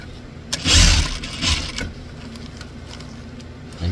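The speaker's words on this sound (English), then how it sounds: "then you're going to sew on this edge right here." A sewing machine stitches a zipper onto a denim bag, giving a close mechanical whirring burst of stitching that surges twice, then drops to a low motor hum, with no talking.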